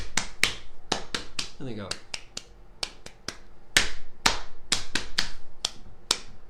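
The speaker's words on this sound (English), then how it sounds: "whatever I pat, you have to now clap" Sharp hand claps in a quick rhythmic pattern, kindergarten children clapping together in bursts during a lesson, with brief speech in between.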